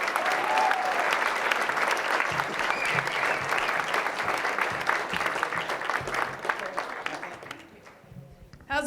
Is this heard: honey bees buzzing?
no